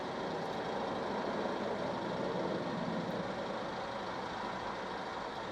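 A bus passing on the road outside, heard through an open car window while the car sits stopped in traffic: a steady, fairly loud rumble of engine and road noise that fills the whole stretch without letup.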